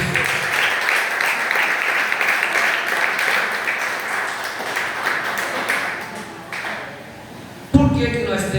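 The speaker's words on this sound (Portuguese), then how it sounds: "E dá uma salva de palmas para Jesus." Congregation clapping at a church service, a dense, sustained round of applause that fades after several seconds before a sharper, different sound cuts in at the end.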